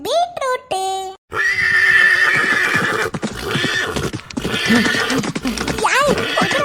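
A cartoon horse lets out a loud, close whinny with a few rising and falling cries, followed by clip-clopping hooves and busy background sound as voices talk over it.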